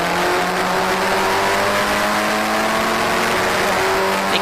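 Historic Formula Ford race cars at Cadwell Park roar past in a group, a loud sustained engine drone with shifting pitch throughout and no voices.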